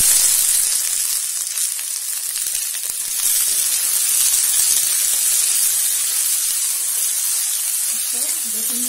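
Karonda fruit fries in hot ghee, giving a steady bright sizzle and hiss close by, with faint stirring sounds and no talk.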